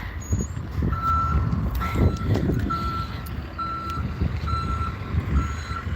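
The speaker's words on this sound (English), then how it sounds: "There's the bus pulling in" A bus pulling in with steady, loud reversing beeps repeating at an even pace over a rumbling diesel engine and passing traffic noise, heard from close by outdoors.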